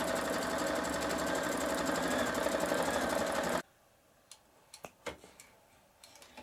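An embroidery machine sews a placement stitch for two front appliqué pieces on a wine glass coaster. It runs with a rapid, steady ticking whir, stops abruptly, and a few scattered light clicks follow.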